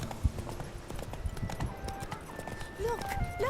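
Roach, the horse in the video game The Witcher 3, runs with steady rhythmic hoofbeats under a voice speaking, while game music and a few tonal effects play faintly in the background.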